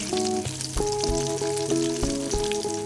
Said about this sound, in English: I'm repeating this step, frying it on the second batch, the other set of the marinated shrimp